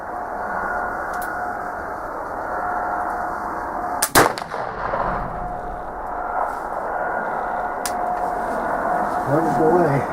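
A Traditions PA Pellet Flintlock muzzleloader rifle fires once outdoors, a single loud sharp blast with a brief rumbling tail, amid steady background noise and occasional talking.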